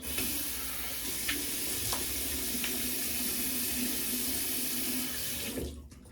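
A bathroom tap runs in a steady, close, full stream while a face is wetted before a shave. The water carries on for about five and a half seconds, with a few faint splashes, and then cuts off. No voices are heard.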